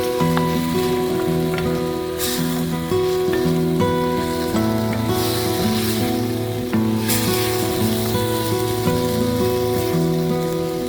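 Chicken curry gravy sizzles steadily in a pan in a South Indian home kitchen, a constant close frying hiss heard alone, with music playing underneath.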